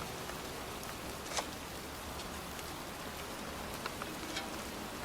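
Steady rain pours down across a cemetery in the video game Heavy Rain, a dense even hiss with occasional faint drop ticks.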